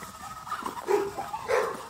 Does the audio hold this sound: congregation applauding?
no